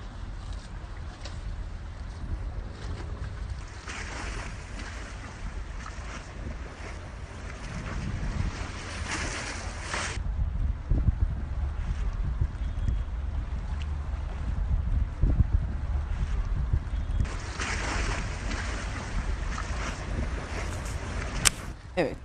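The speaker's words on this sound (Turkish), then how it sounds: "Evet, bu gemi Malta bayraklı bir gemi." A Malta-flagged dry cargo ship in the Bosphorus with a jammed rudder, heard as a continuous broad rumble of engine and water with wind noise, swelling louder in the middle and no clear voices.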